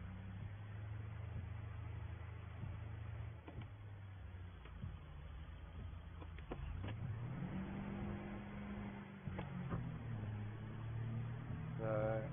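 A farm truck's engine runs steadily at low revs, then climbs and shifts as it pulls away, a continuous close drone with a rising whine near the end.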